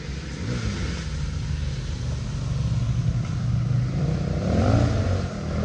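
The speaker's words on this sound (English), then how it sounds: "So more motorbikes" Motorbikes passing on a road on a busy public holiday, a steady engine rumble with rising revs near the end, fairly close and continuous.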